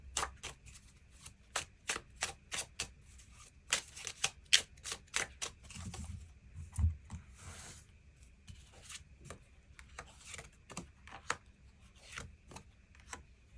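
Tarot cards being drawn and handled on a table, a series of quiet close crisp flicks and soft slaps in irregular clusters, with light shuffling rustles between them.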